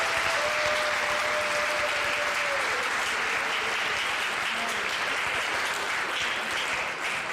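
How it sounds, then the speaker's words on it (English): Audience at a high school awards ceremony claps loudly and steadily for senior MVPs, a dense, sustained applause that carries on without a break for several seconds. "How about a round of applause to all these senior MVPs?"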